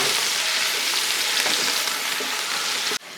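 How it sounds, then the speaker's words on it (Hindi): Chopped garlic sautéing lightly in a hot pan, a steady bright sizzle and crackle close up that continues evenly, then cuts off abruptly near the end. "लहसुन को भी हमने हल्का सा सौते कर लेना है"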